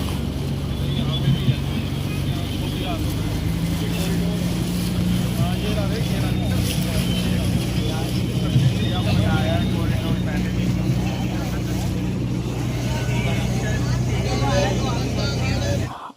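A large passenger boat on the Ganges at Varanasi near Manikarnika Ghat, with a steady low motor drone running throughout under a person talking.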